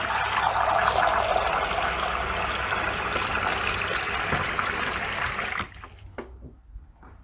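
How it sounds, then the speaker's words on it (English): Two cups of cold water pour into a spice mix in a kitchen as a loud, steady gushing stream for several seconds, then taper into a few trickles and drips, with no voices. "And 2 cups of cold water."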